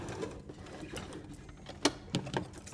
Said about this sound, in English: just pin the closure and just run a couple of stitches down it to hold it in place